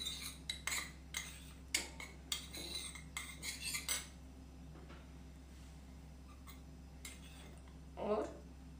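Spoon clinks against a bowl or plate while black salt and chaat masala are stirred together as a seasoning for homemade banana chips, a quick burst of light metallic taps and scrapes over steady background hum, then a lone clink later.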